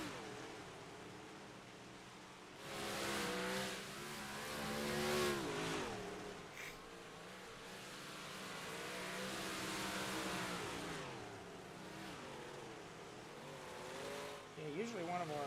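Race cars in a heavier car class at Cedar race track, engines revving and rising in pitch in repeated surges from mid-distance, while people talk over the din throughout.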